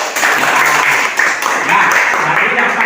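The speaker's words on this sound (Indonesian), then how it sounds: "tepuk tangannya." A classroom of students claps hands together in a continuous, fairly loud burst of mixed clapping lasting a few seconds.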